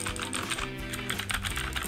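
Quick, light clicking of fingers typing on a cheap computer keyboard, a steady patter of keystrokes close by.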